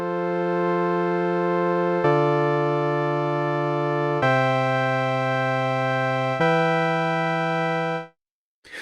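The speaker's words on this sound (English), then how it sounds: "So what I've got is a U-tune oscillator using the sawtooth waveform going into a filter and then an envelope and then to the audio output" A synthesizer voice built from a sawtooth oscillator passing through a filter and an envelope plays four sustained, buzzy, harmonically rich notes of about two seconds each, steady and loud, then cuts off.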